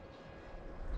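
A small Talon 250g RC plane with a T-tail flies past at high speed, its electric motor whining steadily at a distance, fairly faint against outdoor background noise.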